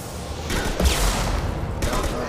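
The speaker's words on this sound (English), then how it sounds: "Is the gunship fire going to hurt me? Watch for heavy fire." Heavy gunship fire in Mass Effect 2 rattles out as a dense burst of rapid, booming shots lasting about two seconds, loud and close.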